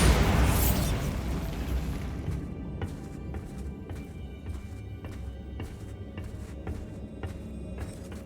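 A Bombarda spell explosion in Hogwarts Legacy opens with a loud, booming blast that rumbles and fades, followed by a series of sharp clicks and small mechanical knocks.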